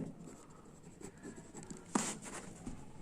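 Pen scratching across paper while working a class 7 math solution, soft intermittent strokes with one sharper tap, quiet and close.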